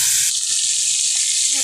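Chicken frying in a pan for kachchi, a loud, bright, continuous sizzle up close that swells suddenly early on and then holds steady, with no talking.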